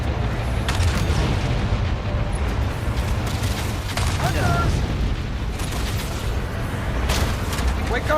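Heavy Wraith artillery fire booms and rumbles through a Halo campaign beach-head assault, dense and continuous across the stretch, with a few sharper blasts standing out and players talking over the battle.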